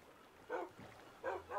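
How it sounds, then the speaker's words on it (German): Dogs barking in the video game Minecraft, two short barks about a second apart, fairly faint and alone. "Das sind meine Hunde!"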